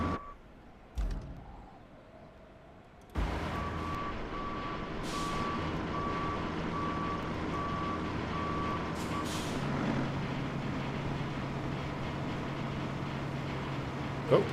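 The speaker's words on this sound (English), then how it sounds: "Oh no, the other truck kind of stalled." A large truck in the RoadCraft video game sits idling at steady low rumble, with reversing beeps and air-brake hiss after a brief dropout, the engine drone continuing throughout.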